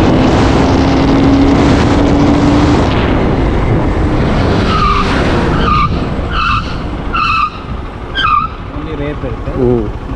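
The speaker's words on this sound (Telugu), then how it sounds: "సో ఏబిఎస్ లేకపోవడం వల్ల వెనకాలైతే స్కిడ్ అవుతుంది." A Hero XPulse 200T motorcycle without ABS brakes hard while carrying a pillion, and its rear tyre skids with a loud, rough scrubbing noise over wind rush before a voice speaks near the end.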